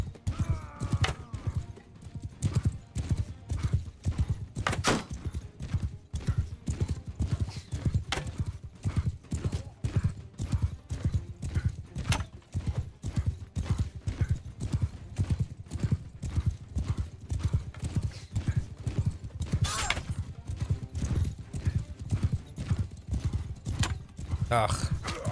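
Steady, rapid hooves of a galloping horse in the Bannerlord battle game, a continuous drumming rhythm that runs unbroken and fairly loud, with a voice briefly over it.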